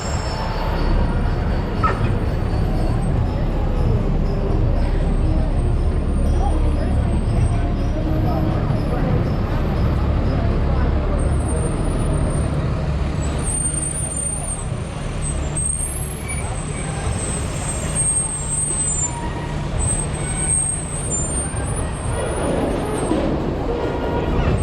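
A large truck rumbles past on a New York City street, heavy low engine and squealing brakes loud and close for the whole stretch, with a rider talking over it.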